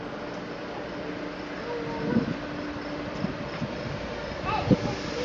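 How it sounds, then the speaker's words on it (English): A train pulls out of a station, giving a low, steady rumble mixed with wind noise, with a few soft clanks and a brief louder knock near the end. "Oh, the train's gonna go now."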